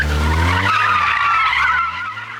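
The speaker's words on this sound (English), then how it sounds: "handbrake turning where others fear to tread" A car skids through a handbrake turn, tyres squealing loudly and continuously for about two seconds over a low engine note that fades as the slide ends.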